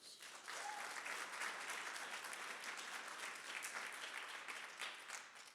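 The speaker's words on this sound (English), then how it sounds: "A round of applause for them" A fairly quiet, distant-sounding audience at a university talk claps in sustained, uniform applause that starts after a brief pause and holds steady to the end.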